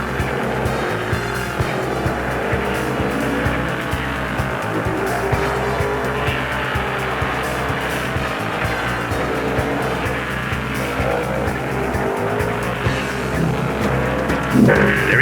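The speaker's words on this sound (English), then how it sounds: "Coming onto the front straight, Cale Yarborough gets flat on with it" Stock cars racing at Bristol in the 1974 Southeastern 500, a Chevrolet among them, roar continuously around the track, engines loud and steady with passing surges and crowd-like wash, no talk.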